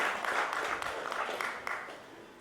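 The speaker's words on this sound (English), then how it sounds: "Let's give Mr. Anil a huge round of applause." Audience at a procurement summit panel clapping for a panelist, a fairly faint, even round of applause from a seated conference crowd, sustained throughout without voices.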